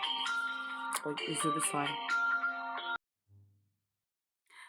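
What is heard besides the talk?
phone ringing in background at home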